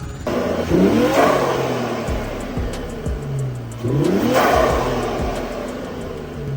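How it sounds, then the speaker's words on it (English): An Infiniti Q60 Red Sport engine with custom exhaust and intake revs up loudly twice, climbing in pitch and dropping back, with a rumbling exhaust between the pulls. "We'll go ahead and rev it for you guys."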